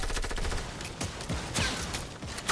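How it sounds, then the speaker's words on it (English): Rapid bursts of gunfire in the video game Fortnite, dense overlapping shots and automatic fire cracking loudly in quick succession for a couple of seconds. "I'm getting shot."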